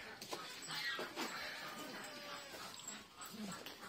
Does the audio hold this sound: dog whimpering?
yes